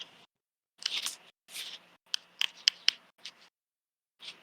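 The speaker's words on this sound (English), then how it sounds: "Oh, someone's clicking." Sharp little clicks and scratchy taps come in irregular clusters, some quick and bright, set apart by short silences, close and fairly quiet.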